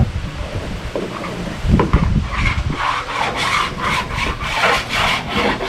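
Surform rasp shaving partly set body filler on a beach buggy, close repeated rough rubbing strokes in a steady back-and-forth rhythm.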